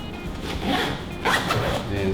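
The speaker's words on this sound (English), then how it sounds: "And zip it back up." A zipper pulled shut on a Boundary Prima System camera bag, a close, scratchy zip in a few uneven pulls with a quiet voice over part of it.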